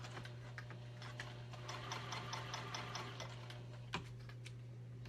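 A Juki 2000 QI sewing machine runs in a steady stitching burst, a rapid even clatter of needle strokes close by with a constant motor hum underneath and a sharper click near the end.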